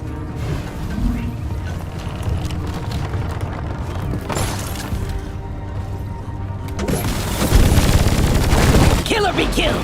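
Weapons fire in the Deep Rock Galactic sci-fi shooter, with sustained rapid bursts and booming impacts that grow heavier toward the end, mixed with game voices calling out over the combat.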